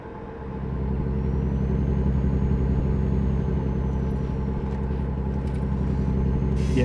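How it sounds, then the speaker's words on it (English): A damaged truck in a driving video game, after a crash, droning with a steady low engine rumble and odd mechanical tones, loud and continuous with no talk. "my truck is making some weird fucking noises"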